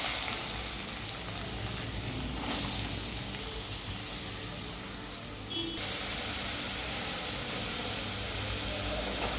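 Two big chopped onions sizzle in hot oil in a kadai, a steady, close, even hiss of frying that runs unbroken throughout with no voices.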